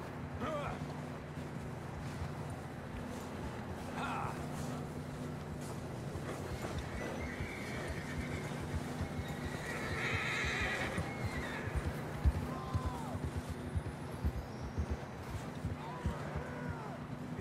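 Horses whinny and hooves clop steadily in a Red Dead Redemption 2 scene, with a low droning background hum throughout and occasional voices.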